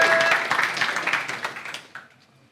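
A crowd applauds at a rap battle, loud, close clapping with some cheering voices that tapers off and fades out over a couple of seconds.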